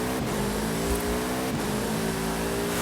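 Engine of a Volkswagen Vocho in the Forza Horizon 5 racing game, droning steadily with a harmonic whine and brief gear-change dips as it revs, close and continuous, with no voices.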